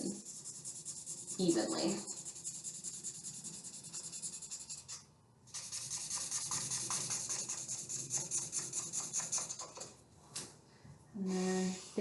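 Pen scratching and rubbing on paper while filling in a comic drawing, close and steady in long stretches broken by brief pauses, with a person talking intermittently.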